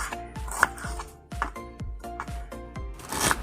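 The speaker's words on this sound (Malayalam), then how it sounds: "ഇതേ അപ്പം അമ്മ ഉള്ളി ഇങ്ങനെ അരിഞ്ഞോണ്ടിരിക്കുന്നുണ്ട് കേട്ടോ" A knife chops onions lengthwise on a board in quick, even strokes, each a sharp close thud, repeating steadily with no talk.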